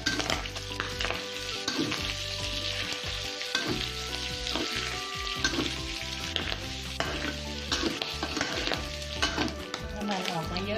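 Chili pork with straw mushrooms stir-fried in a pan, giving a loud, continuous sizzle broken by irregular scraping stir strokes, with a steady background tone running throughout.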